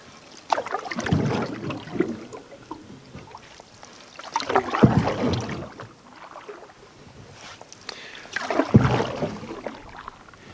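A canoe is paddled on the Yukon River, with three distinct paddle strokes spaced a few seconds apart, each a close splash and swish of water above a soft background of wind and current.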